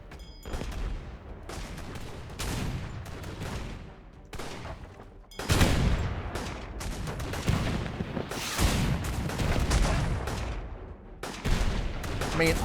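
Old wooden-era ship cannons firing broadsides in the airship battle game Airships: Conquer the Skies, a dense barrage of booming shots in rapid bursts, loud and continuous with overlapping impacts throughout.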